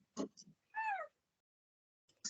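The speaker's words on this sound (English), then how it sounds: "My cat is in the background, like meowing." A house cat meows once in the background, a short rising-falling call, with quiet human sounds just before and after it.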